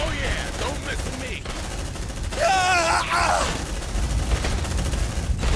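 Bursts of gunfire from the sci-fi video game Aliens Dark Descent crackle in rapid volleys, with shouting voices over and between the shots.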